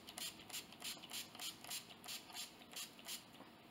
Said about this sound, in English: So I'm going to shake this up. This is the NYX First Base Primer Spray.